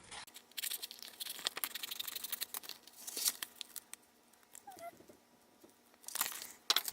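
Adhesive stencil material being cut for an etched oil and vinegar glass bottle: soft crinkling, scraping and snipping sounds in uneven bursts, close and fairly quiet, with a quieter pause midway.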